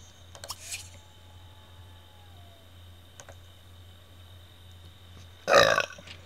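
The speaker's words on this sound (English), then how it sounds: "One hell of a burp." A Sim lets out a single loud, short burp in The Sims 2, standing out near the end after quiet game ambience with occasional soft clicks.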